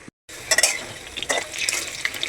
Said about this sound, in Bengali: প্রথমে আলুগুলোকে ভেজে নিচ্ছি